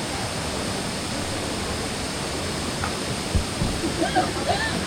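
A waterfall in Vietnam roars as steady, dense rushing water, with a few faint voices and small knocks near the end.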